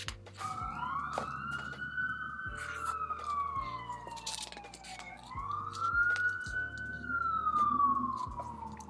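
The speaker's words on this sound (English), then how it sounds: "Love a siren." A wailing siren rises and falls in long sweeping cycles, fairly close and loud, with a rhythmic low thumping underneath and faint background noise.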